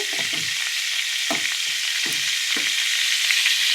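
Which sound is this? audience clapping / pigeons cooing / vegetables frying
vegetables frying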